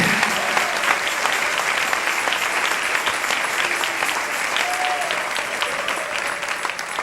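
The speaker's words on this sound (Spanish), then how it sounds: "Dale ese aplauso al Rey" Congregation applauding during a church worship service, a steady, dense clapping that fills the space from start to finish with no break.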